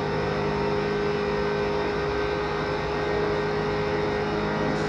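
A Subaru accelerates hard in the driving game Gran Turismo 5, its engine droning loudly and continuously as it climbs through the gears, with no talking.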